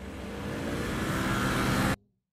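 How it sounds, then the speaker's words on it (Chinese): Busy street traffic with a continuous broadband roar of passing cars that builds slightly, then cuts off abruptly near the end. "繁忙的交通"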